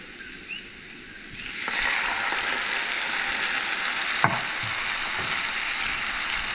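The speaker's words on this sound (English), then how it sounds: "I've been stirring this pretty consistently for a little while, and those are starting to caramelize." Food sizzling and caramelizing in a pan as it is stirred steadily, a broad, close frying hiss that swells after a quieter start, with a brief scrape or clink partway through.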